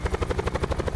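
Helicopter from the video game Blackout, a steady rhythmic thumping of rotor blades with a pulsing whine, close and continuous throughout with no talk.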